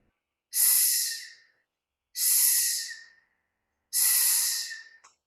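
A voice imitating a snake hiss for the letter S, three long breathy hisses with even pauses between them, close and loud with nothing else around.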